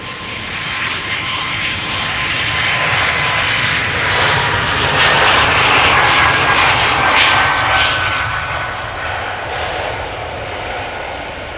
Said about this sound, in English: Air Baltic A220 to Riga